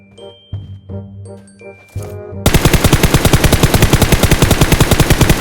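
Rapid automatic gunfire in the battle-royale shooter Game for Peace, a loud unbroken burst of evenly spaced shots that cuts in after a few softer clinks and game noises and runs steadily to the end, with no voices.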